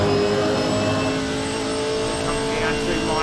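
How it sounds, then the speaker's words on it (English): A 6.2-litre V8 race car engine in Gran Turismo 4 at Kyalami, heard on board as a loud, steady, dense drone throughout. Race commentary talk runs over it. "Listen to that V8 hum."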